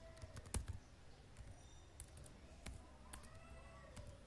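Someone types on a computer keyboard, producing faint, irregular keystroke clicks spaced unevenly over a few seconds.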